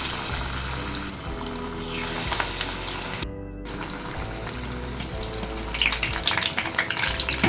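Lentil vada fritters deep-frying in hot oil, a steady bubbling sizzle with a brief near-silent gap partway through, then the frying resumes, with faint utensil clinks and no talk.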